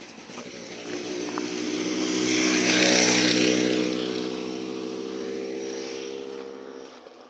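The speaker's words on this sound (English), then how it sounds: "technically you cannot use motorbikes on this path" A motorbike rides past on a path outdoors, its engine drone growing louder to a peak mid-way and then fading as it moves off.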